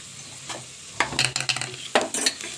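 A spoon scrapes and stirs garlic chutney and asafoetida into cabbage rice in a hot pan, giving a few irregular nearby scraping strokes over a soft background sizzle, with no talking.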